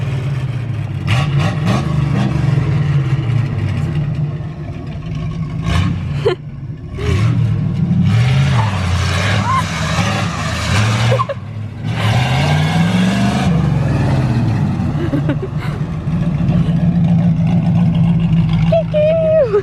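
Corvette with no exhaust fitted, its engine extremely loud as it revs and accelerates through the gears, a raw roaring drone with rising pitch sweeps, close up, with people talking over it.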